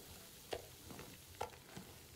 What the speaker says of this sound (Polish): Czy tam się już smaży i się już upiekło i na amen?